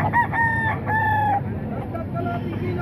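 A tall ten-month-old rooster crows at the Baliwag tiangge chicken market, the loud, drawn-out calls close by in the first half, over a busy background murmur.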